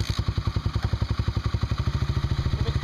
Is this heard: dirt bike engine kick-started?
yes